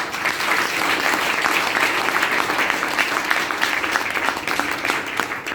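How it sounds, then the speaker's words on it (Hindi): An audience at a business opportunity meeting applauds steadily, a dense wash of many hands clapping together, sustained and fairly loud throughout with no pauses. "तो उनके लिए एक शानदार ताली।"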